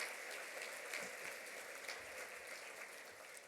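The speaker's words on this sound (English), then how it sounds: "Give Barbara Wolf a big round of applause" An audience at an awards dinner claps in a dense, steady patter of applause, soft and somewhat distant, running unbroken throughout.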